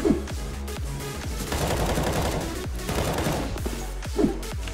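A gunshot in the Apex Legends battle royale shooter: sharp repeated shots, some single cracks and a short rapid flurry, at moderate loudness over a steady background hum, with no talk.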